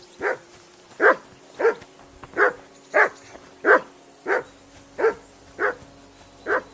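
In a video game, a dog barks about ten times in a steady, evenly spaced rhythm, each bark sharp and close.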